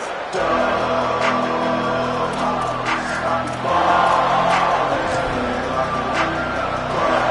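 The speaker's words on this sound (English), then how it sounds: "This crowd ready to make its presence known." A stadium crowd in a college football video game (CFB27) roars steadily, the cheering swelling in waves with occasional louder surges over a constant wall of noise.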